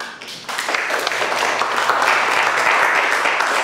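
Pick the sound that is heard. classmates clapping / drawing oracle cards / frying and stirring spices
classmates clapping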